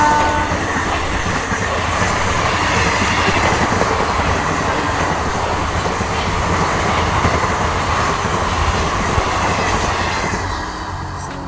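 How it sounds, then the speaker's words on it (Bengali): An Indian Railways train rounds a curve close by, with a loud, sustained rumble and a rhythmic clickety-clack of wheels on the rails. The sound fades slightly toward the end. "আমরা শব্দ শুনতে পাচ্ছি, মানে ট্রেনটা কাছে চলেই এসেছে, অনেকটাই কাছে চলে এসেছে।"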